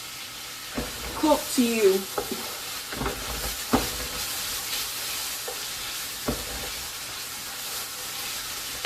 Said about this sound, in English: you're going to just fry them around, like, you know, saute until they all, till they come brown